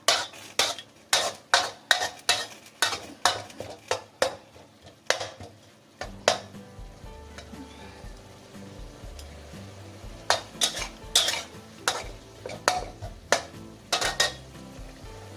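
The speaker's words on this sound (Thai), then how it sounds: "อันนี้เราผัดเข้าที่แล้วนะคะ เดี๋ยวเราจะใส่สตอค่ะ" Minced pork with stink beans (sator) stir-fried in a pan, a run of sharp, rhythmic spatula scrapes and clanks over a steady close sizzle, pausing midway before the scraping strokes resume.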